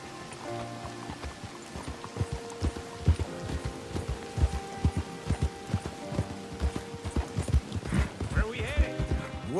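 Horse hooves clip-clop in a steady walking rhythm in Red Dead Redemption 2, close and distinct, with brief speech and a horse snort heard near the end.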